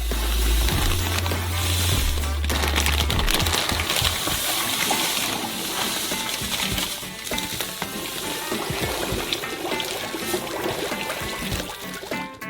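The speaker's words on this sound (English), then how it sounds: "And pour it into the melted butter." Sugar pours into melted butter in a pan on the stove, bringing a close, steady sizzling and frying hiss with stirring and gushing sounds that run continuously throughout.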